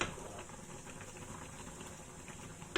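Chicken and pork adobo simmering in a pot, a faint steady bubbling hiss that continues throughout, with a small clink near the end.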